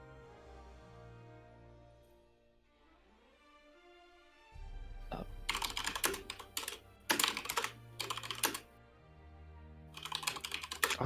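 Computer keyboard typing during a Tetris tournament broadcast: after a quiet hum, bursts of rapid, close, clattering keystrokes come in uneven runs with short pauses, and no one speaks.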